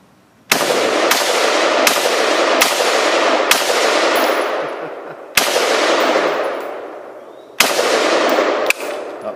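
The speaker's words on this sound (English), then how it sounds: "I see a propane tank that needs to be shot" FS2000 rifle firing single shots at a propane tank outdoors, about eight sharp reports at uneven intervals, each trailed by a long ringing echo, loud and close.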